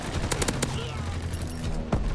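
Mortar fire in Call of Duty WW2 Hardpoint multiplayer, a dense run of booming blasts and rattling gunfire, with a sharp loud hit near the end, all loud and close.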